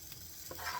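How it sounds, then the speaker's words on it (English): Soft, close sizzling of waffle batter hitting a hot waffle iron, a brief quiet crackle that swells slightly. "you can see it's actually sizzling."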